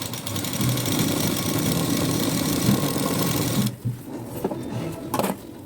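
Sewing machine stitching a blouse, running as a loud steady mechanical whir for several seconds, then stopping abruptly with brief softer restarts and handling noises.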